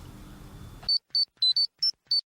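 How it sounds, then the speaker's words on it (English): Six sharp, high electronic beeps come in a quick irregular series after a brief stretch of faint background noise, each short and clean against silence. "We'll be back after you get some beeps in your ears."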